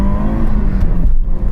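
Audi Quattro rally cars roar as they accelerate hard off the line at a drag race start, loud engine revving close by with a brief shift in pitch.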